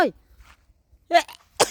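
A person sneezes outdoors in windy weather, with a short nasal intake followed by a sharp, loud burst, then a second explosive sneeze close by.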